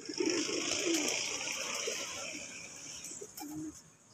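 Racing pigeons at a pigeon club coo in low, soft bursts close by, with a few short calls over quiet background noise and no talking.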